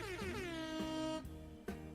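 A blaring air horn sound effect with a sustained harmonic blast, broken by two abrupt restarts, loud and alone without voices.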